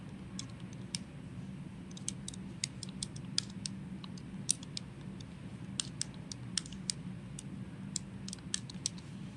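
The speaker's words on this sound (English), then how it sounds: "now I can just type this in" Numbers being tapped into a calculator for a physics problem. Light, quick clicks come in irregular runs over a low steady hum, close but faint, with no talking.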